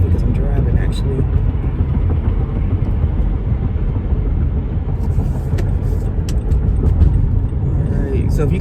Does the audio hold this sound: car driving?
yes